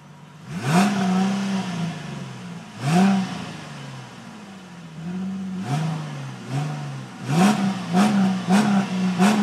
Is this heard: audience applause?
no